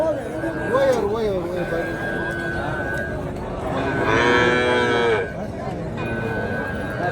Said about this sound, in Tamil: செவலை பசுமாடு கண்ணுக்குட்டியும் பார்த்தீங்கன்னா அதே கலரில் செவலை கண்ணுக்குட்டிங்க.